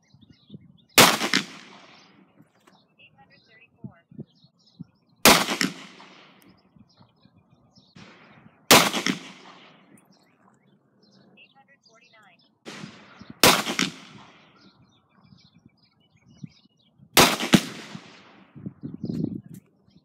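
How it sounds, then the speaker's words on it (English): Five sharp gunshots from a Ruger LCR .38 Special revolver with a short barrel, firing hollow point rounds into bare gel, loud cracks spaced about four seconds apart, each followed by a short decay and faint handling noise. "I'll be shooting these out of my Ruger LCR with its 1 7/8 inch barrel."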